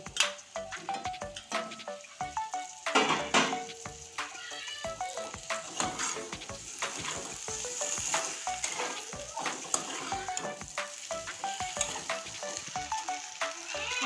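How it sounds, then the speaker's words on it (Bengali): Potatoes and okra frying in a spiced mustard paste, with a steady close sizzle and scraping stirs running throughout, a brief louder burst of spitting early on. "আলুটা আমি এখন দিয়ে দিচ্ছি মশলার দিকে আর ভেন্ডিটাও আমি দিয়ে দিচ্ছি"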